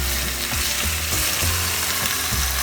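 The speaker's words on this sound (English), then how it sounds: "Keep stirring the onion till it turn golden and mutton should be little softer." Onion and mutton pieces sizzle loudly in a pan over medium to high heat, with a steady dense fry broken by repeated scraping stirs, cooked for hariyali green mutton curry.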